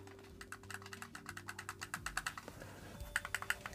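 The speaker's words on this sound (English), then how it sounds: "clicky triggers" Xbox Series X controller triggers click in a quick, even run of light plastic taps, close and fairly quiet, with a slightly harder burst of clicks at the end.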